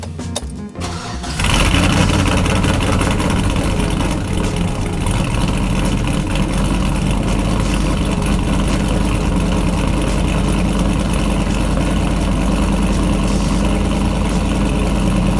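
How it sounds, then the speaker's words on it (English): A 2005 GMC Yukon GMT800 truck with factory manifolds and a leaky original exhaust cold-starts after a brief crank, then settles into a loud, steady, rough idle close by. "here's a cold start with the original exhaust. It's got some leaks and it's factory manifolds"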